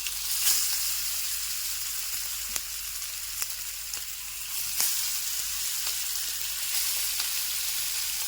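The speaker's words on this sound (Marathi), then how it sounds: "तेल चांगल्या पद्धतीने तापलेलं आहे आता एक एक ठिकाण आपण याच्यावर ठेवून देऊ" Chicken pieces sizzle in hot oil, a steady loud hiss of frying that runs the whole time, with a few sharp crackles and pops scattered through it.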